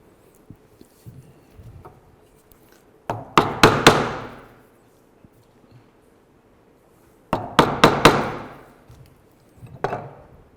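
Chisel driven by mallet into wood while carving a decorative shell, working across the grain: two clusters of sharp, close woody taps, each a quick run of four or five strikes with ringing decay, separated by quiet pauses, plus a fainter tap near the end.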